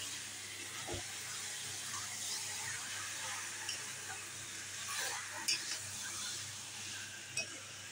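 Marinated meat hitting spice paste cooked down in oil, a soft, steady sizzle and hiss with a few scraping stirs and light clinks, fairly quiet and without talk.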